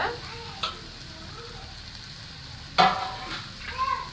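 Peas and potatoes frying in a pan are stirred, giving a couple of quiet scraping knocks over a faint, soft sizzle.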